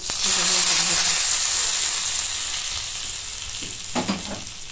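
Tempering of curry leaves and dried red chillies for a buttermilk kadhi sizzles loudly in hot oil, a close, hissing crackle that fades slowly, with a few clinks from a spoon stirring near the end.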